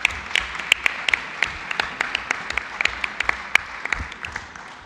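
Steady applause from an assembly audience at a formal meeting, with sharp individual claps standing out in a continuous, moderately loud patter that tapers slightly at the end.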